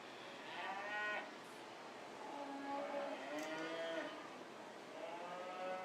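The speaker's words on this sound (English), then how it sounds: "you'll see a ring full of cattle." Cattle mooing in a county fair show ring, several drawn-out calls from different animals, moderately close, over a steady background hum of the arena.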